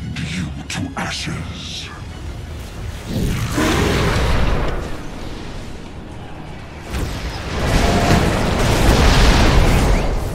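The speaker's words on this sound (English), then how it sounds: "Dire's middle tower has fallen." Dire's middle tower collapsing in Dota 2, with heavy crumbling booms and rumbling debris in two loud waves amid game effects and a voice speaking.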